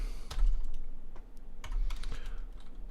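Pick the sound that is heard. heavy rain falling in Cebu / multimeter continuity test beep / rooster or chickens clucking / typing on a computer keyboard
typing on a computer keyboard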